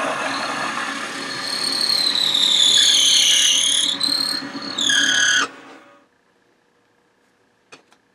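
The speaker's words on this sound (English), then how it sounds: "then you drill it with a drill bit that's going to match" A power drill whines loudly as its bit bores into wood, pitch sliding and stuttering, then cuts off abruptly, leaving near silence and a single small click.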